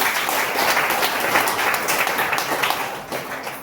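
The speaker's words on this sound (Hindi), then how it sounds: "मंदिर के लिए जोरदार ताली।" A crowd gathered at a health mission event claps loudly and steadily, a dense wash of many hands that holds strong for nearly four seconds before easing slightly at the end.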